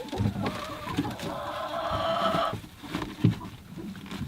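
Backyard chickens cluck and murmur nearby in a steady outdoor chorus by their coop, with a sustained call rising midway and scattered rustling.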